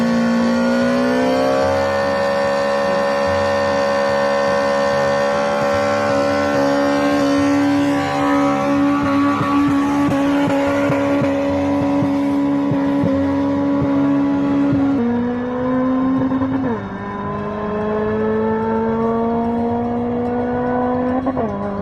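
A 2005 Toyota Corolla XRS engine revs hard and sustains a loud, rising whine with a brief dip and climb near the end, heard up close without voices.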